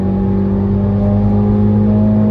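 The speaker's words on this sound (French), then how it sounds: "On accélère plus fort dans la ligne." A loud Mini John Cooper Works GP engine drones steadily close up while accelerating hard on a race circuit, a constant mechanical roar with whirring tones, holding throughout.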